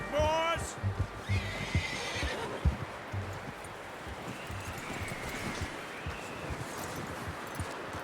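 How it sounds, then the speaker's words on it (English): A horse in the Western video game Red Dead Redemption 2 gives a clear whinny early on, with hooves clip-clopping and shuffling, and a voice talking over a soft outdoor ambience. "You should really tether that horse, Arthur."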